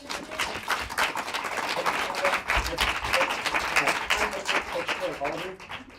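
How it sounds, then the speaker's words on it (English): A small audience at a film festival screening claps briskly and unevenly nearby, with some voices and talk mixed in with the clapping. "Turn it around so we can see us clapping."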